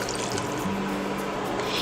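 A cup of water poured into a pressure cooker pot holding mushroom pulao with coconut milk, a steady close splashing stream that runs the whole moment with no talking.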